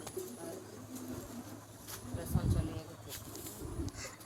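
Low, murmuring coos from farm-kept pigeons swell briefly near the middle and then fade into a soft, steady background hum.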